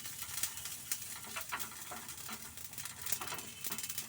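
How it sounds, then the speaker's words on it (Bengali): Mustard seeds and curry leaves frying in hot oil, a quiet continuous sizzle with small crackles and pops scattered throughout, close by and without talk. "সর্ষে আর কারি পাতাটা দিয়ে তেলটাতে গরম আর কি ভেজে নিচ্ছি।"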